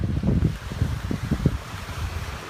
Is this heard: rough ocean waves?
yes